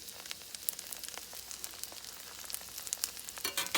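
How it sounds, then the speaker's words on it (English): Cooked rice in a frying pan is pressed flat with a spatula, giving a steady close crackling sizzle with scattered pops and a brief louder scrape near the end. "We'll take our spatula and just sort of flatten that rice down."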